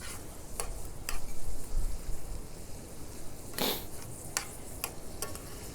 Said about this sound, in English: I can hear we're sizzling a little bit.